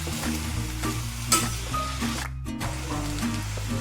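Salted ivy gourd sautés in a pan with a steady, close sizzle, broken by repeated scraping stirs of a spoon against the pan throughout.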